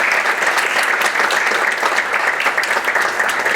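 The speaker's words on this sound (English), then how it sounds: "I think we need a round of applause for these people." An audience applauds a community panel, a dense, steady clapping from a crowd that continues without a break throughout.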